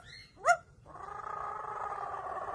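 A talking parrot mimics a dog with one short, sharp bark-like call, followed by a steadier, raspy sound that continues to the end.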